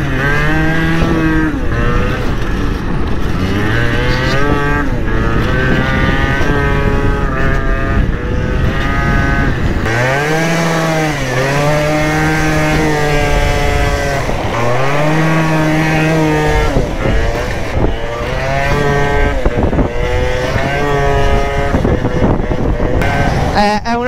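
A Gilera Stalker 50cc scooter engine while riding, a loud, buzzing two-stroke whine that rises and falls in pitch through repeated revving and gear changes, close up and continuous throughout.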